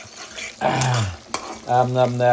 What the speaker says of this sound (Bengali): টমেটো মশলাটা ভাজা হওয়া পর্যন্ত অপেক্ষা করছি